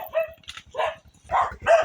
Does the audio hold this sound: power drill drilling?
no